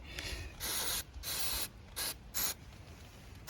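Penetrating oil is sprayed from an aerosol can onto parts of a 20-year-old KTM 640 LC4 Adventure motorcycle in four or five short, close hissing bursts of uneven length, separated by quiet pauses.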